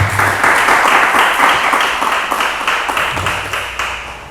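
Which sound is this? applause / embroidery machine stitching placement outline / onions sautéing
applause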